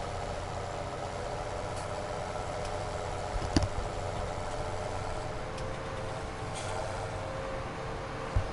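A tractor engine idles and runs steadily in Farming Simulator 17, a constant low drone with a few faint clicks and taps, moderately loud throughout and with no voices.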